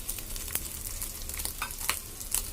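Egg fried rice being stirred and fried in a pan, with steady crackling sizzle and soft scraping stirs running throughout at close range, no voices.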